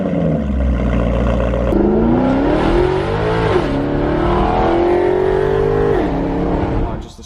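Damaged McLaren sports car with a non-resonated X-pipe exhaust, its engine revving in a loud, sustained rise and fall that climbs in pitch, holds, then drops before cutting off near the end.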